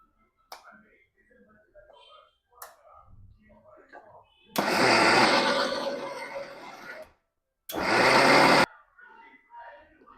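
A mixer grinder grinds soaked moong dal with a little water in its jar, roaring loudly in one long run and then a second shorter burst, with quiet clinks and movement before it.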